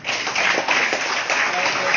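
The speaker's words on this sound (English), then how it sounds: "Can we give him a round of applause?" A room at a city council session breaks into steady applause, a continuous, muffled patter of many hands clapping with no pauses.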